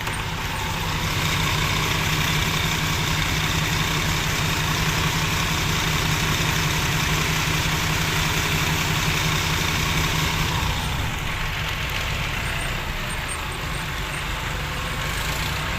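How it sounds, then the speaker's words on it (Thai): A tractor engine idles on standby in a muddy field, a steady low rumble running unbroken and fairly close, easing slightly toward the end with no voices over it. "รถไถนี่มาสแตนบายไว้รอครับ"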